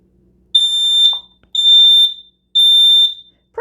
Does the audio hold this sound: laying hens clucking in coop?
no